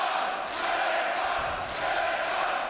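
A dense, continuous roar from an arena crowd cheering at a TFL 15 fight event, loud and unbroken throughout with slight swells.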